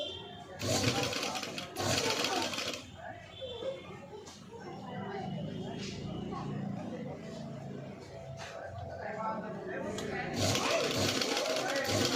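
Sewing machine stitching fabric for a patchwork blouse, running in short bursts with pauses, close and fairly loud, while someone talks over and between the runs.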